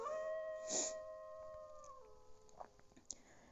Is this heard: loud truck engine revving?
no